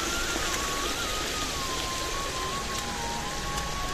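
Water from a waterfall near the Mumbra Devi temple outside Thane pours in a dense, steady hiss, close and constant, with a faint tonal whine running through it.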